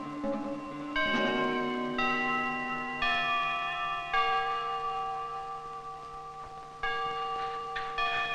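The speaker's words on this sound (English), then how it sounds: "Ring your damn bell." A single bell rings in a slow series of resonant, overlapping dings, each strike blooming and fading into a sustained metallic hum, fairly close and alone.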